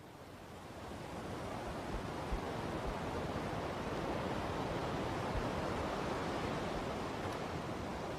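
Sea waves on Morocco's coastline roll in as a continuous broad roar of surf, steady and fairly faint, with no voices.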